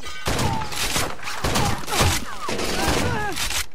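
Rapid, overlapping blasts of Spas 12 shotgun fire in the video game Rainbow Six Vegas 2 pound through the whole stretch, mixed with other gunfire and faint voices.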